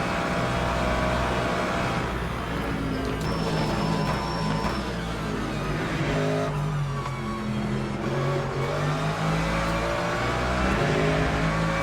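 A Porsche race car engine in the sim racing game Le Mans Ultimate drones loudly and continuously, with shifting revs and gear changes in a steady, dense roar and no talk.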